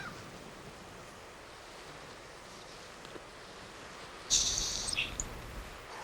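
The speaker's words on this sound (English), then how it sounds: "Right in the taller bunch of cordgrass is a sharp-tailed sparrow singing." A sharp-tailed sparrow sings from tall cordgrass in an Atlantic salt marsh. A brief, high, buzzy song bursts out near the end over a steady wash of wind and distant surf.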